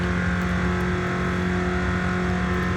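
A 2020 BMW M8 Competition coupe with all-wheel drive cruises at speed, its engine holding a steady, loud droning hum with a strong low tone and road noise throughout.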